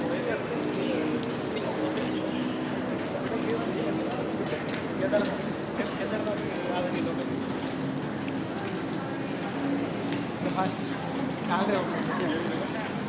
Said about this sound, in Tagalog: Wow, naulan.